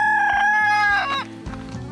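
Backyard chickens, a rooster crowing loudly up close followed by a few clucks, with no talking.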